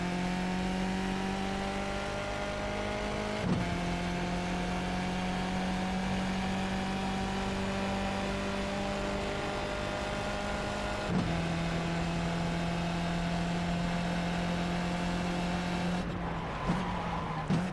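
A race car engine in the iRacing simulator holds a steady, droning high-pitched whine that drops sharply at gear shifts or lifts a few times, then revs again, with faint tire noise and no voices.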